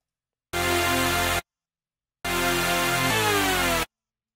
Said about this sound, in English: The next layer that we have are these super saws that are high passed.